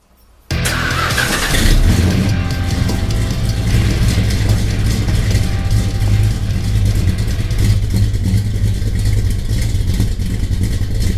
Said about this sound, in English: Les, go crank her up